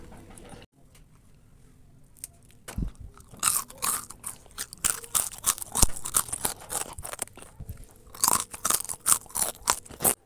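Crunchy wonton-skin snacks heavily coated in sesame seeds are bitten and chewed close to the microphone, with repeated loud, crisp crunches in uneven bursts after a quiet start.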